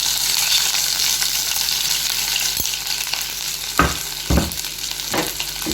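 Crushed ginger, garlic and chilli hit hot oil for a loud, steady frying sizzle, broken by a few sharp spoon knocks against the pan toward the end, with no speech.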